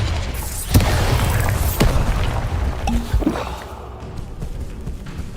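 Confringo spell blasts erupt in the video game Hogwarts Legacy, loud booming bursts and crackling impacts piling up over a dense, continuous roar of combat effects.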